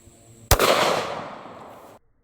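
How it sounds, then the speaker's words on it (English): A single loud gunshot from a 230 grain Hornady .45 ACP hollow point, a sharp crack followed by a fading echo that lasts about a second and a half, heard alone. "let's see what happens when we hit it with a 230 grain Hornady 45 ACP hollow point"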